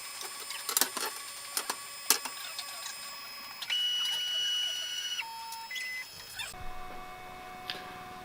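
A Flashforge Adventurer 3D printer at work: quiet stepper-motor whines that shift between steady pitched tones, with a few faint clicks and ticks, heard close and alone.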